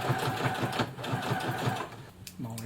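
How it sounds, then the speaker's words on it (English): A Brother FS60X sewing machine back-stitches through denim in quick, steady needle clatter, a rapid rhythmic chatter close by that cuts out near the end as a voice starts talking. "Just do a back stitch here."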